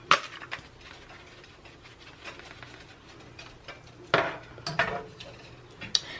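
Spoon stirring lasagna sauce in a pot, seasoned with Creole spice and pepper: soft scraping and a few sharp clinks against the pot rim, with louder knocks near the end, close and alone.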